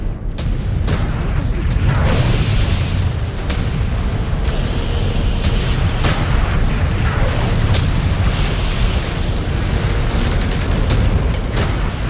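A mech is destroyed in the MechWarrior 5 video game, bringing a dense barrage of loud booming explosions and rumbling blasts, nearly continuous, with sharper bursts scattered throughout.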